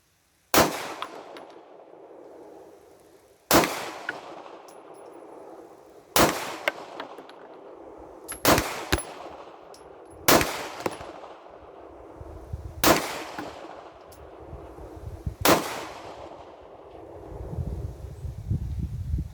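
A Rock Island Armory GI 1911 pistol in 9mm loaded with a Metalform magazine fires eight sharp, loud shots at uneven intervals of about one to three seconds, each crack followed by a ringing outdoor echo.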